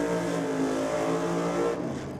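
A supercharged Ford Cortina drag car at a dragway holds a loud, rough revving engine note, close and alone, easing slightly in the final moment.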